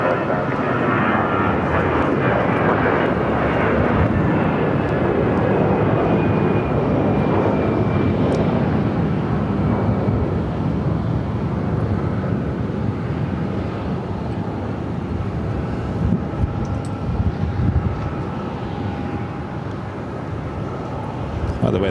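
An American Airlines jet roars down the runway on takeoff at Phoenix airport, a loud continuous engine rumble and whine lasting throughout, with radio tower chatter and talk over it.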